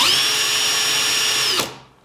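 A power drill spins a drill chuck core holder at high speed, a loud steady whine held for about a second and a half before cutting off and winding down.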